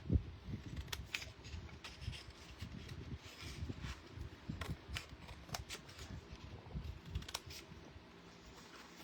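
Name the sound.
scissors cutting paper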